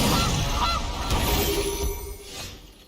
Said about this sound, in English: Gilded Goose!